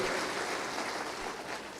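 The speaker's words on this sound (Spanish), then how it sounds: "Dale un aplauso a Él" A church congregation breaks into applause, a dense, continuous bed of clapping that stays steady throughout the brief stretch.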